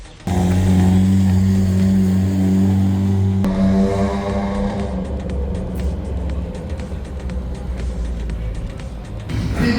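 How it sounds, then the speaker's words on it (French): A Renault Clio M3 rally car, number 108, at the Rallye Charlemagne roars past close by, its engine loud and sustained, then shifting and fading into rough gravelly road noise. "C'est un tour avec la Renault Clio M3, ils ont le numéro 108."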